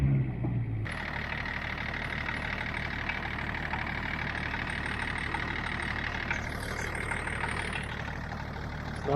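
A Range Rover P38 engine cranks and catches after a brief quiet moment, then settles into a steady, even idle heard up close for several seconds.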